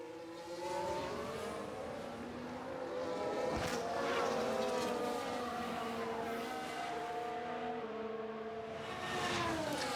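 F1 cars in the F1 Manager 2023 video game whine past during a pit stop, with several high engine tones sweeping up and down, some cars passing close and loud, others farther off.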